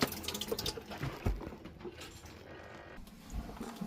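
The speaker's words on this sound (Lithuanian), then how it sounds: "Ir paspaudžiant tą pedalą bėga vanduo." Foot-pedal pump drawing water into a boat's galley sink, with soft clunking pumps and a thin running trickle, close and fairly quiet with no talk.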